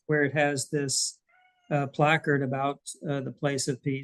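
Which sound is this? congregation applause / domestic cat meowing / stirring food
domestic cat meowing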